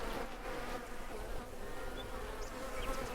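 Bees buzz around farm beehives in the game Farmer's Dynasty, a low steady drone with faint higher whines drifting past.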